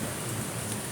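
Steady rain pattering on a surface, a dense wash of drops filling the short stretch with no voices.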